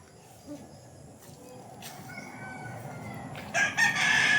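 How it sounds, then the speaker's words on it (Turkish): Fighting roosters crow in the distance, a couple of calls spread out, then a louder, closer crow near the end over faint outdoor background noise. "Yanılmıyorsam dövüş horozu bunlar."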